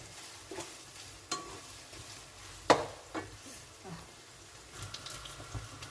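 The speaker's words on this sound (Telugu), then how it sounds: "పన్నీరు బాగా ఫ్రై అయింది" Paneer frying in a pan gives a faint, steady sizzle, broken by a few sharp spatula clinks and scrapes spread through the clip.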